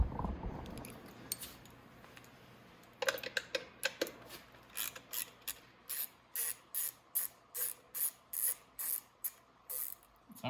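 A hand ratchet turns a 10mm headlight bolt on an X21 50cc motorcycle, its clicks starting sparse and then settling into a steady run of about a dozen evenly spaced, close, sharp ratcheting strokes.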